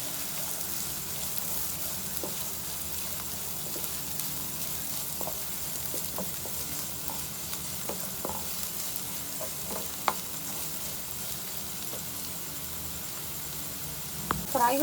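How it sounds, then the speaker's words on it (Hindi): Onion and red chilli frying in oil in a pan make a steady, moderate sizzle throughout, with scattered light clicks of stirring and a louder clatter at the very end. "अब हम प्याज शामिल कर देते हैं, लाल मिर्च और हल्का से इसको फ्राई कर लेते हैं।"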